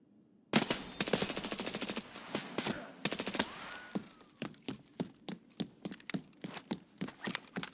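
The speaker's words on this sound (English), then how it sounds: "he's shooting me through boxes and walls and all sorts of stuff" Automatic gunfire in Escape from Tarkov, starting with two loud, close bursts and then slowing into a steady run of separate single shots.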